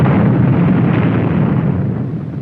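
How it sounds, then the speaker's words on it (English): A nuclear bomb blast effect from a 1968 election ad, a loud sustained low rumbling roar that holds steady and starts to fade near the end. "Do you want Castro to have the bomb"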